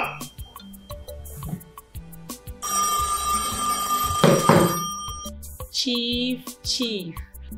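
Telephone ringing in a Nigerian family drama scene, a bright electronic ringtone pattern lasting a few seconds amid clicks and music-like tones, fairly close and clear.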